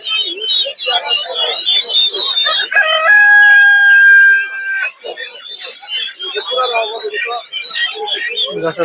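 Chickens at a poultry market in Putia bazar, Narsingdi, where ducks and chickens are sold; a loud rooster crow rings out mid-clip amid busy clucking and crowd chatter, with people talking throughout.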